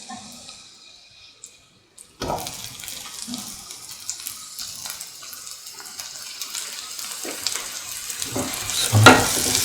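Tomato pieces hit hot oil in a pan, a brief quiet lead-in giving way to a steady crackling sizzle with stirring scrapes that grows louder toward the end.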